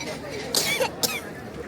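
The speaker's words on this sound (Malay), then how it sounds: "Kenapa batuk?" A child coughs twice in quick bursts, close by, with faint family chatter and voices around in a busy indoor setting during a family trip.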